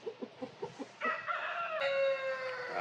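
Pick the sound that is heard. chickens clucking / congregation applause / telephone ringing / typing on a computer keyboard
chickens clucking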